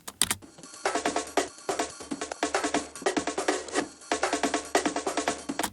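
Drum loop cut from an old sampler, a steady broadband beat with crisp repeated hits and a low thump, playing alone at moderate level with brief gaps between bars.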